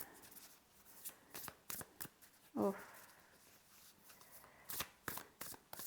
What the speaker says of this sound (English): I'm giving them a bit of a shuffle here.